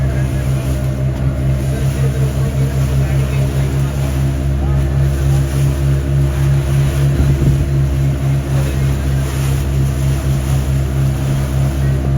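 A motorboat out at sea drones with a loud, steady engine hum for the whole stretch, while waves wash faintly underneath and voices occasionally sound over the noise.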